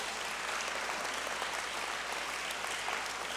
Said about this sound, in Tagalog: Laksan po natin ating palakpak sa ating dakilang Diyos.